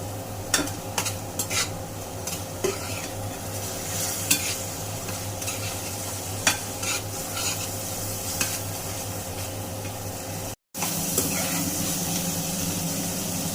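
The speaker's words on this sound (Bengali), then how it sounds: "আমার মশলা খুব ভালো করে কষানো হয়ে গেছে" Spices stirred and sautéed in a pan, a continuous close frying hiss with rhythmic scraping strokes of a spatula, with one brief break near the end.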